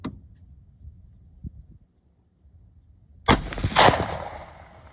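A Mossberg 500 shotgun fires a single Aria Ballistics elephant slug outdoors, one loud, sharp blast that breaks a quiet pause and then trails off in a rolling echo.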